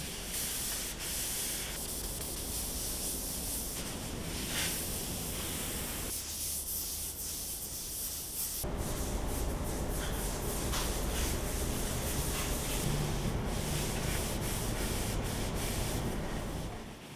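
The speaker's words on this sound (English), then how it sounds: "added a coat of board butter, and buffed everything out for a perfect finish" Buffing a board butter finish onto large maple end grain cutting boards, a continuous soft rubbing hiss that drops briefly and then returns slightly louder, steady and close.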